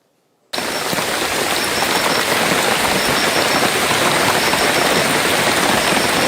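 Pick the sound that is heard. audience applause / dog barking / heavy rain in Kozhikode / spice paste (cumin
heavy rain in Kozhikode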